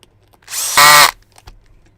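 A power drill set to its highest speed whirs loudly for about half a second with a rising, high-pitched whine, then cuts off. It is heard up close while servicing a GMade GS02 RC crawler.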